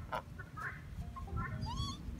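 A duck on a farm gives a few faint, scattered quacks and honking calls over a low rumbling background, with other bird calls mixed in.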